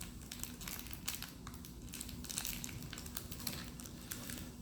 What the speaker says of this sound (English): if you have a preference for crinkling sounds, that this does kind of sound ASMR-y